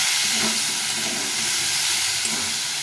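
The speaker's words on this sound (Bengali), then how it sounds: "দিয়ে এটাকে সবটাকে ভালো করে কষে দিতে হবে" Onion and garlic paste frying in a hot pan gives a steady, fairly loud hissing sizzle that continues without a break from start to end.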